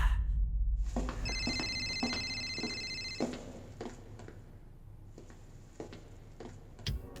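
A telephone rings with repeated bursts of electronic trilling tones, fairly close, over a low background rumble and some faint clatter.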